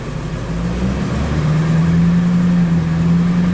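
Ford F250 pickup with an automatic transmission driving steadily, a continuous mid-pitched engine drone with a slight rise and gear-change shift partway through, close and fairly loud with no talking.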